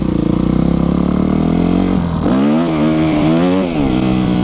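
A Yamaha YZF 250 dirt bike holds full throttle while lifting into a wheelie, its engine roaring loud and close, a steady drone rising into a wavering, climbing rev.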